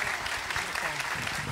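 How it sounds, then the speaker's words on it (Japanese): Dense, steady audience applause fills a live Japanese ghost-story event hall, loud and continuous with no break throughout. "皆さん、もう一度大きな拍手をお願いします。"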